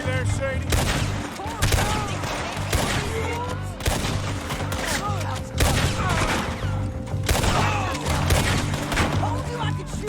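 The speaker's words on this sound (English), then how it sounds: "Told you I could shoot a gun, didn't I?" Rapid gunfire bursts from a Red Dead Redemption 2 shootout, dense repeated shots and booms crackling throughout under music and voices.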